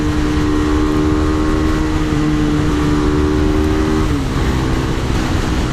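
A heavily modified KTM RC390 motorcycle engine screams at high revs on a highway, loud and continuous under rushing wind, with a brief dip in pitch near the end.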